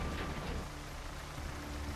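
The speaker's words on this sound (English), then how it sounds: "Oh, it started raining again." Rain in the firefighting video game Firefighters 2014, a dense, steady hiss of rainfall with low rumbling underneath, continuous and fairly loud for two seconds with no talk.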